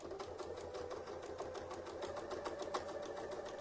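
A sewing machine stitching steadily past the seam allowance during quilting rulerwork, giving a faint, continuous rapid whir and needle chatter with no talk.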